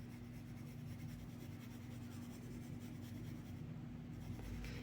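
A soft 6B graphite pencil shades lightly across paper for a realistic drawing, a faint continuous scratchy rub in quiet back-and-forth strokes over a low background hum.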